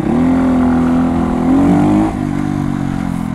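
A 125cc four-stroke motorcycle engine revving close up, rising in pitch then dropping back to a steady idle-like drone, loud and alone.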